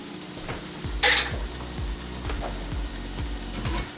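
Flour is stirred into melted butter in a pan, heard as a soft sizzle under a rhythmic series of utensil scrapes against the pan, close up and without talking.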